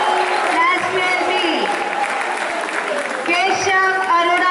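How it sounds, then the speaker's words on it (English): An audience applauds at a school farewell ceremony, a steady wash of clapping running under a loud voice speaking over it. "put a big round of applause for Sarthak Gaba"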